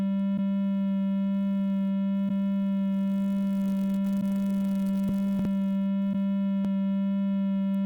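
A steady sustained tone from a Woovebox groovebox, auto-panned left and right, holding one pitch with bright harmonics and faint periodic clicks; no voices.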